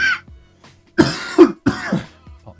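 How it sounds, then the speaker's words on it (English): Several short, close coughs from a podcast host with a slight lingering cough, three distinct bursts spaced about half a second apart, alone with no talk. "Still have a slight cough there"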